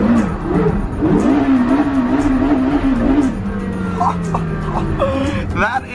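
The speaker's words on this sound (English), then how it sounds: "That is the best drift I have ever been involved in my whole life. Carrera GT on a mountain road." Porsche Carrera GT engine revving hard and sustained while the car drifts on a mountain road, a loud wavering exhaust note that later settles lower, with faint tire and wind noise underneath.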